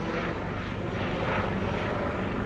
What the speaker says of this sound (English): Oh, there's a helicopter up there.